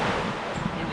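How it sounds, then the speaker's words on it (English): Wind rushes steadily over open sea off South Africa's Wild Coast, where waves run about four metres high, a broad continuous roar buffeting the microphone at sea. "We're in about 4 metre waves right now."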